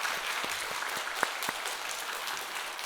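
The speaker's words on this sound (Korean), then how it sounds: "우리 찬양대가 올려드린 찬송으로 하나님께 영광의 박수를 한번 올려드립니다." A church congregation applauds the choir, conductor and accompanist. Steady, even clapping from many hands carries on throughout, with a few louder individual claps standing out.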